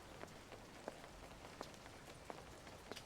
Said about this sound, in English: I love the smell of the rain, especially in a city like Yokohama.